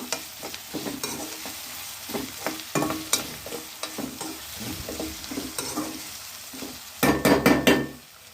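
Tomatoes sautéing in a pan give a close sizzle broken by repeated spatula scrapes and stirring knocks, with a louder burst of clattering stirring near the end.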